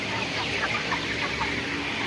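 Sonali chickens on a poultry farm cluck in a dense, continuous chorus close at hand, many birds overlapping with no pauses and no voices.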